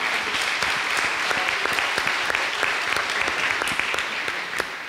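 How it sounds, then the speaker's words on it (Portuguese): An audience at a holiday party event breaks into steady applause, a dense, even crowd of clapping lasting several seconds with no pauses. "Eu queria uma salva de palmas."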